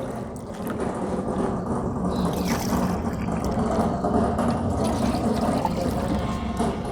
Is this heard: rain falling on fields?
no